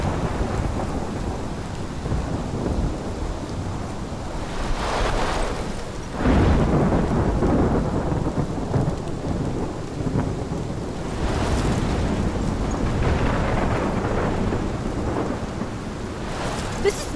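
Thunderstorm in the game Life Is Strange: steady heavy rain with deep rolling thunder that swells and booms several times over a continuous loud downpour, with no talking.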